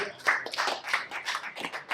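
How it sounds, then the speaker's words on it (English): A round of applause from a business seminar audience, steady clapping from a modest group lasting a couple of seconds, fairly close and without talk over it. "You get a round of applause for that one"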